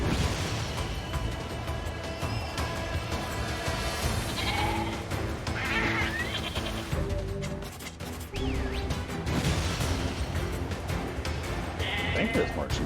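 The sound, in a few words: sheep bleating in video game Nier Replicant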